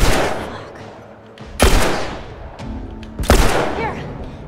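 Gunfire in The Last of Us Remastered: three loud, sharp shots ring out a second or more apart, each decaying into a short echoing tail over quiet ambience.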